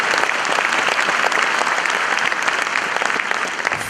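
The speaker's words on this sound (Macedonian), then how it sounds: "Ајде еден аплауз да не се чувствуваме празни." Audience at a New Year stand-up comedy show in Macedonia bursts into loud, dense, sustained clapping that continues evenly throughout, heard up close.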